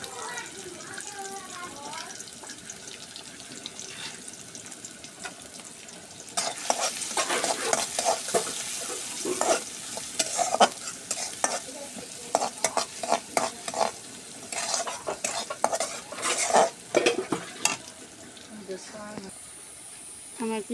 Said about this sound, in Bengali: পেঁয়াজ দিয়ে দিলাম, গোটা রসুনটা দিয়ে দিলাম,